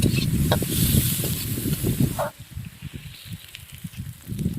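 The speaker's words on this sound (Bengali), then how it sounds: "পেঁয়াজটা আমি ভেজে নেব।" Onions fry in hot oil with a dense, steady sizzling hiss that eases partway through and then picks up again, with no talking.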